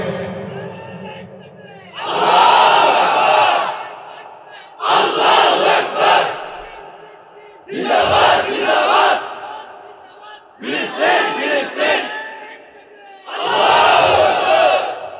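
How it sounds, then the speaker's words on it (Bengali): Large crowd at a religious gathering shouting the takbir in unison, five loud, massed bursts of bellowing voices, each about a second or two long, separated by short gaps filled with a single voice leading the call. "মারো এবার তাকবীর, মারো জোরে"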